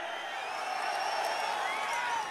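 Rally crowd at a political public meeting in Puttur, Nagari constituency, producing a steady, loud wash of cheering, clapping and shouting that holds without pause, with no clear individual voice standing out.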